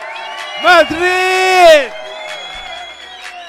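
Crowd at a live DJ night in Madrid whoops and cheers loudly with some clapping, a shouting announcer's voice riding over the roar, which peaks and then settles into a lower, sustained crowd noise.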